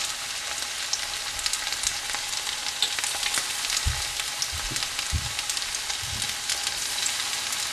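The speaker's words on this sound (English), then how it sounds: "Then I'm going to put these pakodas in hot oil." Olive pakodas deep-frying in hot oil, giving a dense, continuous crackling sizzle up close, with a few soft low bumps partway through.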